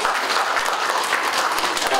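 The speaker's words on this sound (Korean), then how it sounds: "박수 한번 해주세요." Brief burst of applause from a youth audience at a summer church retreat for middle and high school students, a dense patter of clapping under faint crowd murmur.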